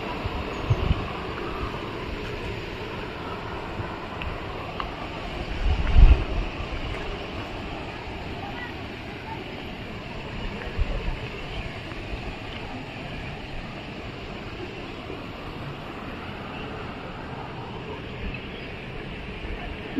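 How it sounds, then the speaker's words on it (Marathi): Steady, broad rushing of water at Napane waterfall in the Konkan region, a continuous roar with some wind buffeting and a brief louder thump near the middle, no talking. "पाण्याचा आवाज बघू शकता."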